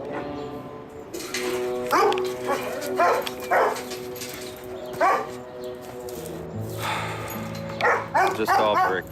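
Hounds seized by a sheriff's office in Galveston bark and yelp in kennels, many overlapping barks and howls in irregular bursts against a continuous background of dog noise.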